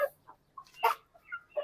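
A broody hen sitting on eggs gives short, soft, separate clucks close by, about five quick notes in under two seconds, with no talk.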